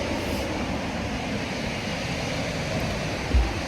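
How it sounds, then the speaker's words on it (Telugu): Water rushing at Bushkill Falls in the Poconos, a broad continuous roar heard from a distance, steady and even throughout with a soft low thump near the end and no voices. "వాటర్ సౌండ్ వింటున్నారా?"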